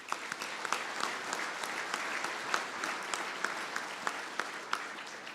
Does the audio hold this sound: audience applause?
yes